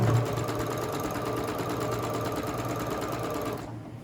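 A sewing machine stitches fabric for a burrito project, a fast, steady mechanical whirring hum with rapid rhythmic ticking that runs close and continuous before stopping abruptly near the end.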